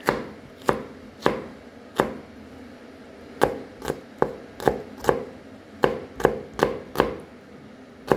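Knife chopping a de-seeded jalapeno chili on a cutting board, sharp, close knocks coming in uneven bursts, some spaced out and others in quick clusters, with no talking.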